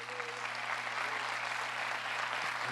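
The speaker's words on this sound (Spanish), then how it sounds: "démosle un aplauso fuerte a Jesús." A church conference audience claps loudly for Jesus in a dense, continuous burst of applause with a sustained organ or keyboard tone underneath.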